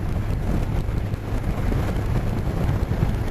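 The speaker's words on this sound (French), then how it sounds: "je prends le vent en pleine face" Wind rushes into the rider's face on a moving motorcycle, producing a steady, low, rumbling roar of wind noise with no other sounds standing out.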